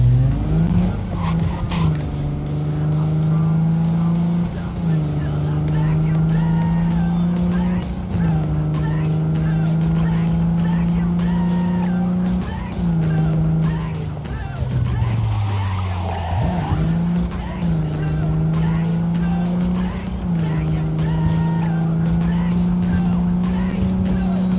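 A car driving in Cyberpunk 2077, a loud steady engine drone holding pitch with repeated small rises as gears shift, a dip and rev near the middle, and tire noise throughout.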